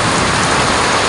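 Heavy rain pounding down in a flooding afternoon storm, a loud, thick, unbroken roar of drops striking surfaces close by, with no voices.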